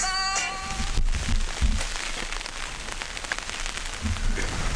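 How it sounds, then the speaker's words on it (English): Steady patter of rain drumming on a thin tent nearby while wild camping on the Black Mountain, dense and continuous, with a few louder drips and a brief tonal sound at the start. "Well, it had to happen, didn't it? It started raining."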